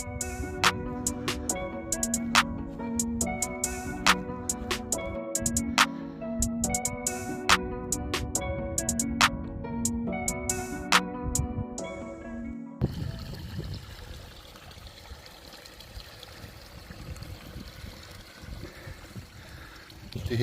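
Steady broadband rush of a mountain stream fills the second half, following a stretch of music with rhythmic percussion; the flow sounds close and continuous. Recorded on Stybarrow Dodd in the Lake District.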